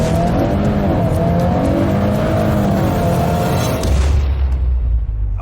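A Volkswagen Golf and other fast cars launch hard in a drag race, their engines roaring loud and close in a sustained rising blare before a deep rumble takes over near the end.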